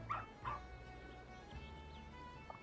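A pup in Final Fantasy XIV yips twice in quick succession, short high barks close by, followed by quieter whimpering over a low steady game background hum.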